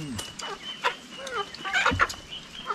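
Chickens cluck and squawk on a farm in short, irregular bursts, some close and some farther away, over a quiet outdoor background with faint murmuring.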